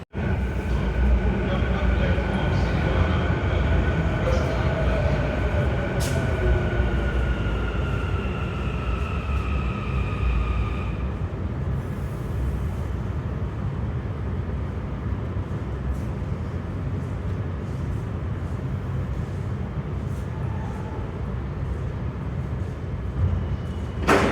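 A metro train rolls in with a rising whine and steady rumble that fades to a hollow station hum.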